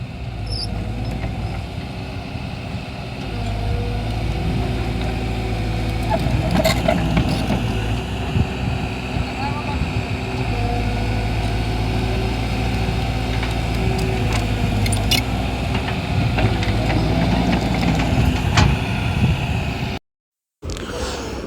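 A Caterpillar 312D excavator engine, repaired after a dead injector made it bog down under load, runs under load as a steady, loud, low droning rumble that holds without stalling.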